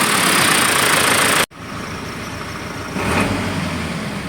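An overhauled Mitsubishi Canter 4M51 diesel engine running steadily up close, dropping out abruptly for a moment before picking back up with a broad, even mechanical drone, then a slightly louder, deeper idle near the end.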